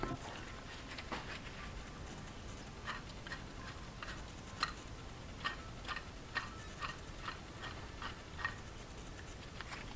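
A used water pump from a BMW X5 with the M54 engine spins by hand, giving faint, irregular ticking clicks over a quiet background hiss, close but soft.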